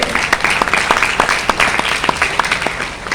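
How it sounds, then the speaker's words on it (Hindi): Steady, dense applause from an audience at a business gathering, many hands clapping loudly and continuously with sharp individual claps standing out, and no voices over it. "एक जबरदस्त ताली होना चाहिए"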